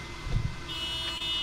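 A car horn sounds in a short burst, set off remotely with a key fob, fairly loud and close, followed by a sustained steady tone.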